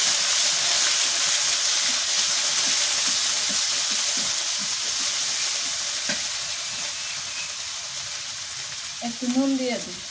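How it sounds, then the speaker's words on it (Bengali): Spice paste sizzles and spits steadily in hot oil in a home kitchen, loud and close, fading a little before a short voice at the end. "তেলের মধ্যে মশলাটা দিয়ে দিই।"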